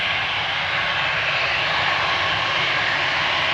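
Airbus A320 engines of an easyJet airliner roaring steadily as it slows down on the runway after landing at Manchester Airport, a loud, continuous broadband engine noise with no talk.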